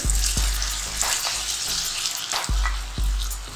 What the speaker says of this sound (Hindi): अरवी को 4 से 5 मिनट इस ऑयल के अंदर फ्राई करेंगे